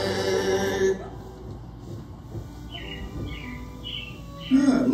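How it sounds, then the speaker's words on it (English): Robin-like chirps and whistled bird song from the soundtrack of Walt Disney World's Carousel of Progress animatronic attraction, brief repeated tweets at moderate level over a steady background music bed. "it looks like the robins are getting ready to celebrate Valentine's Day today"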